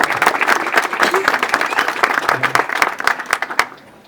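Audience applause at an award ceremony, several seconds of lively, close clapping with scattered sharp claps, thinning out and fading quickly at the end.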